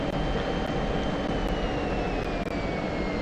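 An F-16 jet engine in flight in the DCS combat flight simulator, heard as a loud, steady, continuous roar with a faint high whine drifting slowly downward, and no talking.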